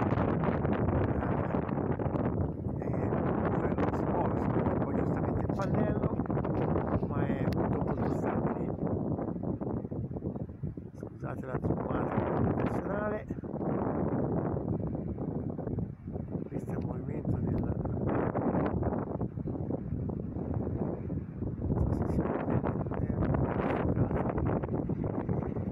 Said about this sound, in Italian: inizio video vento a 35 nodi, diciamo le 30-35